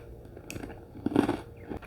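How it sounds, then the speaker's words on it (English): Someone bites into a crunchy sugar-free cookie and chews it close to the microphone, producing irregular crisp crunches that peak midway, with no talking. "I'm gonna get my mouth around this cookie."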